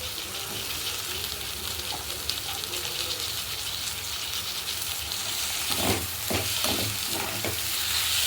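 Chopped tomatoes frying in a pan for brinjal and drumstick kara kuzhambu, a constant close hiss of sizzling oil, then a few stirring scrapes in the last seconds, with no talking.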